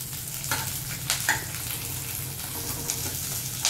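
Sliced onions sizzle in hot oil in a pan and are stirred now and then, a steady close frying hiss broken by several brief scraping clicks of the spatula.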